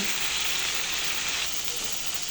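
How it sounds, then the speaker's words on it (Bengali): A spice paste (masala) for a curry with jackfruit seeds, chepa dried fish and taro stolons sizzles steadily while being sautéed in a pan, an even, dense frying hiss with no breaks and no talk. "দেখেন যে আমার মশলাটা কত সুন্দর মতো আমি কষিয়ে নিচ্ছি"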